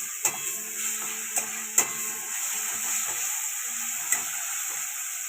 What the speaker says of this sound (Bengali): মা মশলার মধ্যে পালং শাক বাটাটা দিয়ে দিচ্ছে।